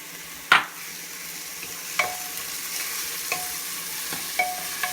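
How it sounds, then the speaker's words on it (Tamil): Onions sautéing with salt in a pan for mutton chalna give a steady low sizzle, broken by a sharp spatula scrape near the start and a few lighter stirring knocks, with no talking. "லைட்டாக நம்ம உப்பு போட்டுக்கிறோம், வெங்காயம் சீக்கிரம் வதங்குறதுக்கு."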